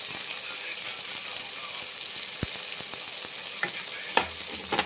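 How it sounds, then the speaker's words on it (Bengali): Lentils frying in a wok with spices, chillies and tomato, a soft steady sizzle with scraping stirs and a few sharp knocks of the spatula against the pan toward the end, no voices. "এবারে আমি এরপর ডালগুলো কড়াইয়ের মধ্যে দিচ্ছি।"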